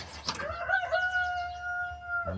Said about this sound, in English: You hear Carl the rooster, forever at it